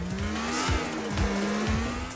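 Tires squeal repeatedly during a street race in the video game GTA IV, several short screeches over a steady engine drone, loud and close, with no speech.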